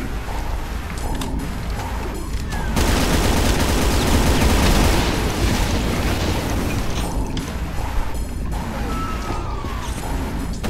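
Gunfire in the Brutal Doom video game, a dense, loud burst of rapid shots and crashing impacts that swells into a continuous barrage in the middle, with sparser shots and mechanical clatter before and after.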